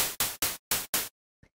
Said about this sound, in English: it's just some white noise going into a bandpass filter, and then the bandpass filter is what's kind of shaping it